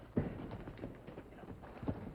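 Hoofbeats clop along at a slow, uneven pace, with a couple of louder hits standing out over a low background rumble.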